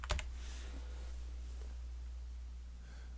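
Typing on a computer keyboard, a short burst of close clicks at the start, then faint quiet background hum with little further activity.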